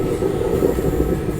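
A passing train hauled by an electric locomotive on the Anand Vihar Terminal to Patna Junction special service rumbles steadily and loudly throughout, a continuous close heavy rolling drone with no talking.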